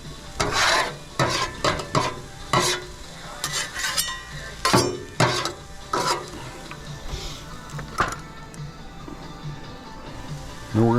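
A metal scraper drags across a Blackstone griddle at a campsite to clear off excess seasoning, making a series of close, loud rasping scrapes and knocks with short pauses between strokes; no voices.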